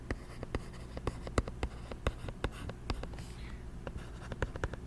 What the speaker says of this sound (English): let me write something out here